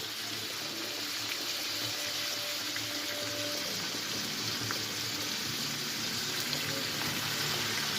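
Greens such as spinach or kale cooking down in a pan, a steady broadband sizzle and watery hiss running evenly throughout at close range, with no talking.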